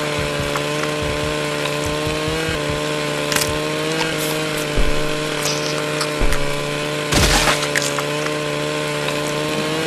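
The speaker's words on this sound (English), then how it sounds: "there's a crazy guy on a lawnmower" Lawnmower engine from the video game Happy Wheels, a loud steady mechanical drone with a constant pitch, punctuated by sharp crashing and clattering impacts, running without speech.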